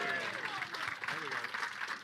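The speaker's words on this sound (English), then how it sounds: "It got a round of applause, yes." Live audience at a comedy show in Cardiff, Wales giving a round of applause, a steady patter of many hands clapping throughout, with a voice speaking over it.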